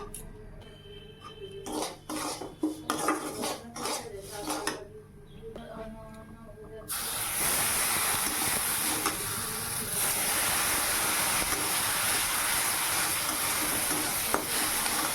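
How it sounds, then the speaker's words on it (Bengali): Semolina frying with potatoes in a pan: first a run of sharp clatters and scrapes of a spatula stirring, then a sudden loud, sustained hiss and sizzle as water is sprinkled into the hot pan. "এখন এই যে সুজিটা দিয়ে আর একটু কড়া করে ভেজে তারপরে অল্প অল্প করে জল ছিটিয়ে দেবো।"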